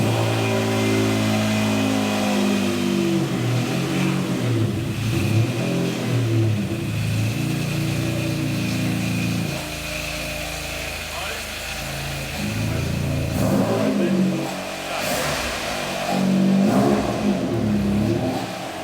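A Subaru Levorg running a newly built H6 engine at its first start, rumbling loudly and close while being revved repeatedly, its pitch rising and falling over a steady idle, with people talking throughout.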